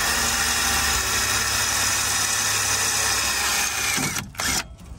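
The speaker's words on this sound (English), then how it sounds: "So you want to drill through the listing attachment and also through the bow" A power drill bores through the listing attachment and bow of a Miata convertible top, heard as a loud, steady, close whine for about four seconds before it stops abruptly.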